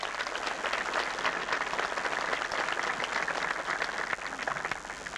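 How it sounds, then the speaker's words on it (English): Audience applause at a memorial dedication for a WWII Medal of Honor recipient, steady dense clapping from a crowd throughout, moderately loud and sustained with no talking over it. "Give them a nice round of applause."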